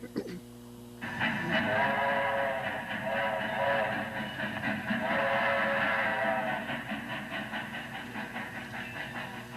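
A train portrayed in a county bicentennial pageant about an 1834 cotton railroad rumbles steadily and loudly with a broad hissing, chugging roar that begins after a brief pause and continues throughout.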